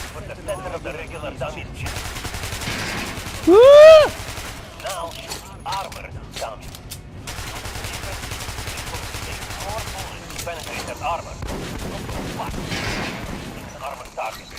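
Weapon fire in the video game Metro Last Light, with sharp repeated shots coming in bursts under frequent casual talk and laughter from players, plus one loud short exclamation partway through.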